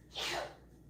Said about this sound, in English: Your girlfriend sneezed.